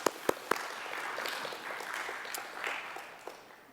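An audience at a student chapter awards luncheon applauds, starting with a few sharp individual claps and swelling into a soft, scattered round of clapping that stays fairly faint and distant.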